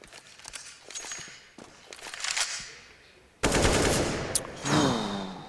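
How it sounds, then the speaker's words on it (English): AK rifle gunfire and footsteps in Counter-Strike during a tournament match, soft steps and scattered shots giving way to a loud close burst of rapid fire, with a commentator talking over part of it. "Crisp with the AK there."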